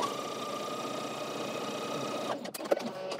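A sewing machine runs a line of stay stitching along a neckline, a steady close mechanical whir and hum that stops abruptly near the end, followed by a few light handling clicks.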